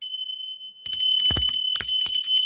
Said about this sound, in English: Salvation Army Christmas bell